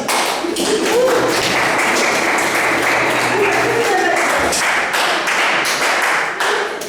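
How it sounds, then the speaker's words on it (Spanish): A school class applauds in a classroom, a loud, continuous patter of many hands with thumps and taps mixed in, while students chatter underneath. "aplaudan"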